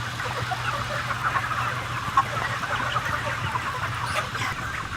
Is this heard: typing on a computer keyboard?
no